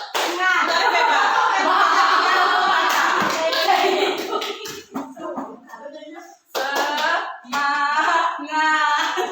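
A group of people performs the tepuk semangat clapping routine during an ice-breaking session, with rhythmic bursts of hand claps and slaps mixed with chanting voices. Short pauses break up the loud claps.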